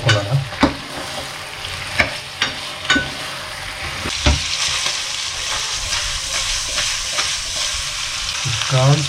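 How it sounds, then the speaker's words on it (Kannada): Onions, with chicken just added, fry in oil, sizzling steadily in a pan while a spoon knocks and scrapes repeatedly against the metal, the strokes loud and close. "ಹಾಕ್ಕೊಂಡು ಎಣ್ಣೆ ನೀಟಾಗಿ ಈರುಳ್ಳಿ ಜೊತೆ ಮಿಕ್ಸ್ ಮಾಡ್ಕೊಳ್ಳೋಣ"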